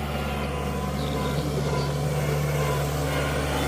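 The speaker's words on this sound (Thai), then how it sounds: "รถไถเพื่อนก็กำลังทำงานอยู่" A tractor works at a site where earth and stone are being filled in, giving a faint, steady engine drone with a constant low hum and no clear changes in pitch or pace.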